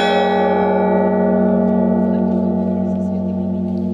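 Church bells ring out loud and resonant, one strong struck tone ringing on with long sustained overtones that slowly decay, with faint background sounds behind.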